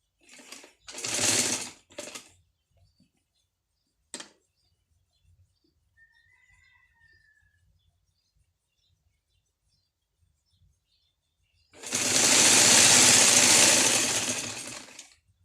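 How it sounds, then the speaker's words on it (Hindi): Sewing machine stitching the seam of an A-line frock kurti, running in two loud bursts, a short one at the start and a longer steady run near the end, with quiet handling between them. "ये जो सिलाई है इसका सेंटर लेते हुए ये देखिए इसको सिलाई लगानी है"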